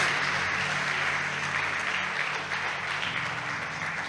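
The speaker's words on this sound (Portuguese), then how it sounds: "Dê um grande aplauso a Ele." A church congregation applauds, steady dense clapping from many hands held at an even level throughout, with no talk over it.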